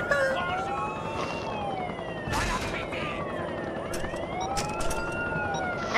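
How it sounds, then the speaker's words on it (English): Police sirens wail in The Incredibles GameCube video game, several overlapping rising and falling tones over a dense, busy background with occasional sharp bangs. "Oh, the sirens. It's so loud in my ear."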